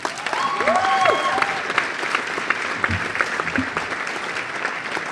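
Loud audience applause fills a theatre after an opening-evening stage production of the play Aadhe Adhure, dense clapping sustained throughout, with a faint whistle-like tone early on.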